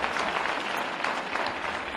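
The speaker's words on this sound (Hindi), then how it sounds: "जोरदार ताली बजाओ" Young people at a youth dialogue program in Bhopal break into strong, continuous applause for two seconds, a thick, even clatter of many hands with no talking.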